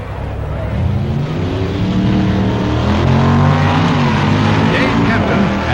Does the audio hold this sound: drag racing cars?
yes